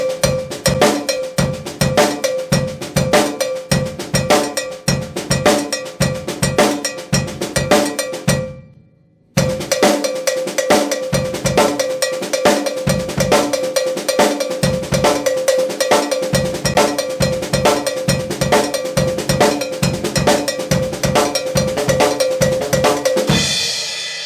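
Cowbell played on a drum kit, struck in a quick steady groove with bass drum kicks underneath; loud and close, pausing briefly near nine seconds before resuming the same rhythm.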